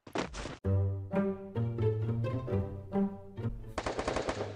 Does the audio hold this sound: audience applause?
no